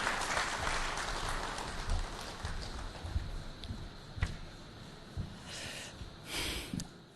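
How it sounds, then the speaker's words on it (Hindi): A crowd at a live political news stage event gives sustained clapping to welcome Akhilesh Yadav, a dense wash of applause that stays steady and then thins out toward the end. "तालियों से स्वागत करें अखिलेश यादव जी"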